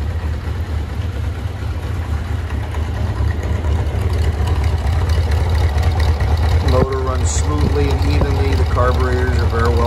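1981 Honda CB 750 F motorcycle engine idling at about 1,000 rpm, a steady low rumble close by that swells slightly, with someone talking over it toward the end.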